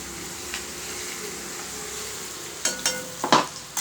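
Garlic, cumin and chili paste sautéing in a pan, a low steady sizzle with several sharper scraping stir strokes clustered near the end, close by and moderately loud.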